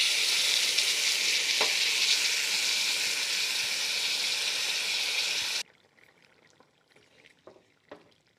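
Potatoes boiling and sizzling in a pan after water is poured in, a loud steady frying hiss that cuts off abruptly, leaving faint clinks and small bubbling noises.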